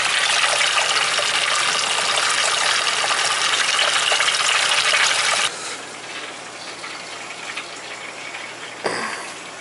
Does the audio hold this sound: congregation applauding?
no